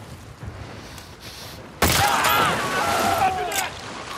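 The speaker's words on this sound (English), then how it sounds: "See how much damage the hunting pistol can do." Hunting pistol in The Last of Us Part II, a single sharp loud crack followed by a ringing, noisy tail and a whistling tone, with faint sounds before it.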